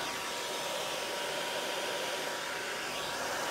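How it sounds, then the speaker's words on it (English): A hair dryer blows steadily on a canvas tote to dry ink, a continuous, even airy whoosh with no pauses and no talking. "I'm going to use my hair dryer to kind of speed it along"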